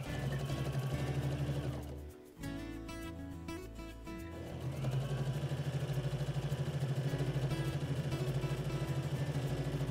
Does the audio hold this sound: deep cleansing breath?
no